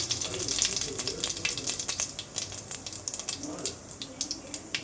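Whole spices, a cinnamon stick piece, two cloves, a cardamom pod, cumin and fennel seeds, fry in hot oil with a steady close sizzle and crackle, some faint background voice underneath.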